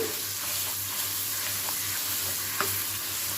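Tender tamarind leaf chutney cooking in oil with garlic in a tempering pan gives a steady close sizzle over a low hum, with faint occasional stirring clicks and no talking.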